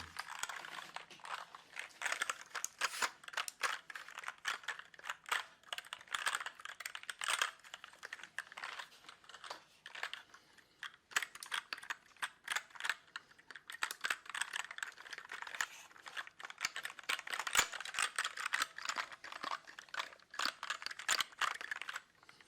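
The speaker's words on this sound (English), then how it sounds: "Pudding keycaps are the best keycaps." A keyboard fitted with pudding keycaps is typed on steadily, producing quiet, close, rapid clacks in an unbroken stream with no voices.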